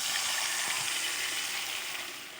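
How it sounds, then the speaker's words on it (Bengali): Boiled mung dal poured together with its cooking water into spices fried in oil for mugeshwari kanchkola, giving a steady, close broadband sizzle and hiss that fades slightly toward the end. "এবার আমি এতে অ্যাড করে দেব বয়েল করে রাখা মুগ ডাল সাথে জল সমেত।"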